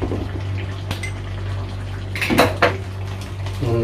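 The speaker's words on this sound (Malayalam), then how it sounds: "നന്നായിട്ടൊന്ന് ഇളക്കാം." Crab roast being stirred in a pan after garam masala is added, with clinks and scrapes of a spoon against the metal pan over a steady low hum, a few louder clatters midway.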